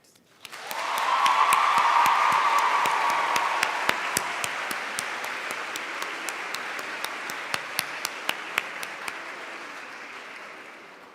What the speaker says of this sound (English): Would you join me in lovingly applauding our graduates?